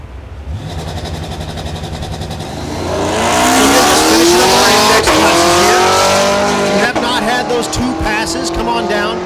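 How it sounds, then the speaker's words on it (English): Drag racing cars do burnouts at Thunder Valley in Noble, Oklahoma, engines revving hard while tires squeal and scream in a loud, sustained roar, with an announcer's voice faintly underneath. "Next pair, doing their burnouts right now"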